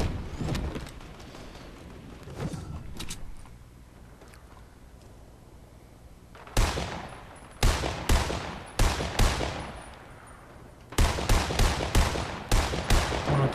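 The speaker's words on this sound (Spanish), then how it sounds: "Lo está reventando, ahí el fusil, está reventando." Rifle gunfire in the Fortnite video game: a quieter stretch, then clusters of sharp, loud, rapid shots in repeated bursts near the end.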